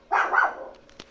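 A dog gives a single short bark, sharp and close, with a faint brief sound just after it in an otherwise quiet scene from a children's animal show.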